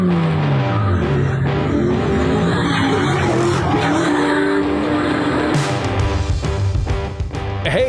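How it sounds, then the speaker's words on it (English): A race car with a roaring engine goes through revving gear changes while its tires squeal and skid, loud and close and continuous, with the engine pitch rising and falling throughout. "those car sounds were from a guest previously on my show"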